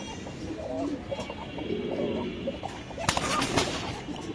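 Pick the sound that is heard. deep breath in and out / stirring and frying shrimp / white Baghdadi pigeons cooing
white Baghdadi pigeons cooing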